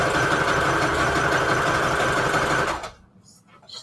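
Sewing machine stitching pages for a Christmas junk journal, a close, steady mechanical whirring buzz that runs for nearly three seconds and then stops, leaving faint handling noise.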